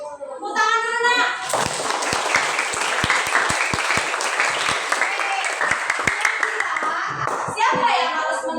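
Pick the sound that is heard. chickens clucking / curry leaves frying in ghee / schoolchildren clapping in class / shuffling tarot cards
schoolchildren clapping in class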